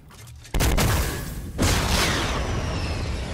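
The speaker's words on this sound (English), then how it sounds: "Use the rocket launcher, though." Rocket launcher fire in a video game: two heavy booming blasts half a second and about a second and a half in, each followed by a long rumbling explosion tail.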